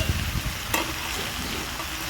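Mixed monsoon vegetables for a vegetarian curry are stirred in a hot pan, a short close scrape of the spatula over a soft ongoing sizzle, with one brighter stroke near the middle.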